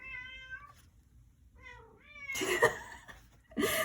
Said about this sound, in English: sorry, my cat's calling me